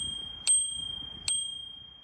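Bell on a Xiaomi Pro 4 electric scooter rings twice, two sharp bright dings about a second apart, each ringing out and decaying in a quiet setting.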